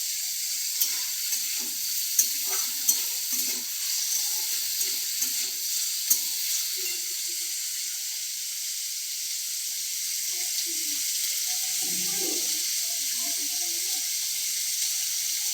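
Potatoes fry in a pan in a home kitchen, a constant close hiss of hot oil with scattered clicks and light scraping stirs, and a brief lower clatter partway through.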